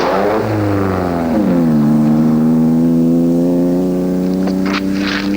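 A 1950s race car engine revs hard, the pitch climbing and then dropping into a steady, loud drone as the car pulls away and drives off.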